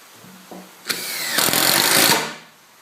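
A power drill drives a 75mm galvanised batten screw into a wooden picnic table, a short tap followed by a close, loud whirring burst that rises and then winds down.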